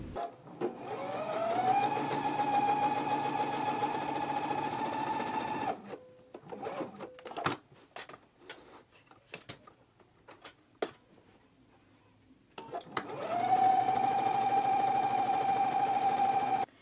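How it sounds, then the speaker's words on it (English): A sewing machine stitching two rows of gathering stitches along a pants back piece: a close, steady whirring run that ramps up and holds, a pause filled with small clicks and handling noises, then a second sustained run. "So let's go ahead and do 2 rows of gathering stitches now."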